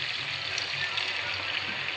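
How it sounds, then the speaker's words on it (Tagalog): Sauce pours into a pot of Filipino adobo, giving a steady, continuous hiss and sizzle with watery splashing that stays even throughout. "ito na yung time na bubuhos na natin yung kanyang sauce"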